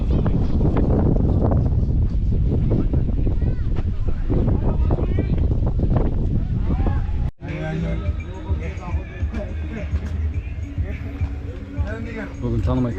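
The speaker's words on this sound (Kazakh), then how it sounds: "Ол жел соғып отыр." Strong wind buffets the microphone outdoors at a football pitch in Berlin, a heavy continuous rumble with gusts throughout, and people talk over it.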